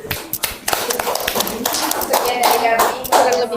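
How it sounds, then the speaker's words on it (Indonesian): Classroom applause for a student group after their presentation, a burst of many hands clapping that swells and carries on steadily for several seconds, close and fairly loud, with a few voices mixed in. "Kita beri aplaus untuk kelompok 3"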